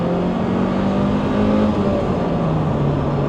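A Lotus Elise engine holds a steady, loud drone while being driven, with a sustained low hum and no voices.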